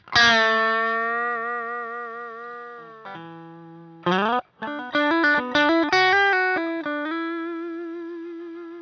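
Electric guitar played through a Kemper amp profile with the guitar's volume knob rolled back: sustained, lightly driven chords and melodic notes ring out, a long held chord, then quicker changes and picked phrases, loud and alone.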